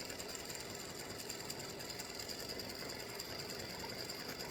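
An embroidery machine stitching a second layer of earrings hums and chatters continuously at a quiet, even level, with no voices over it.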